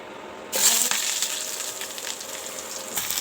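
Cloves and cinnamon dropped into hot oil and butter in a pan set off a sudden loud, steady sizzle that carries on evenly, close by, with no voices.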